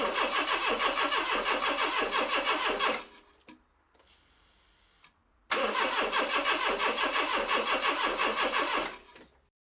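A Renault Trafic van's 2.2 engine cranks rhythmically without catching in two long bursts of about three to four seconds each, separated by a quiet pause, loud and close.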